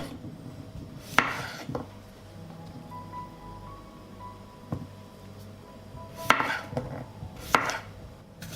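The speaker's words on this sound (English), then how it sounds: "I cut the cucumber into thicker rings." A knife chops a cucumber into thick rings on a board. The cuts come as a few sharp, distinct knocks spaced irregularly, each followed by a short rustle, with quiet kitchen background between them.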